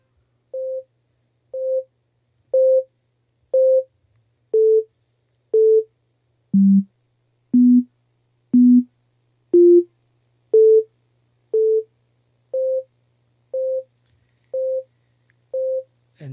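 Pure sine wave tones played one after another, sixteen short evenly spaced beeps about a second apart, with the pitch stepping down through the middle of the sequence and back up, clean and alone over faint hum.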